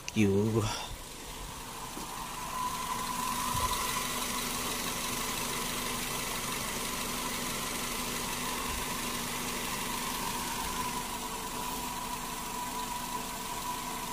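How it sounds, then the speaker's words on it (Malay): A petrol car engine idles steadily below 1000 RPM after a vibration fault and crankshaft pulley wobble were fixed, giving a close, even hum with a low rumble that holds throughout after a brief noise at the start. "sekarang dia punya gagaran engine dan normal. RPM bawah 1000."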